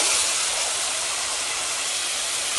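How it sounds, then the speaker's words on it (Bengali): Tomatoes added to frying onions sizzle in a hot pan as a loud, continuous close-up hiss that stays even throughout, with no talking. "এখন আমি টমেটোগুলো দিয়ে দিব।"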